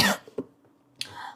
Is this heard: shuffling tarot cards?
no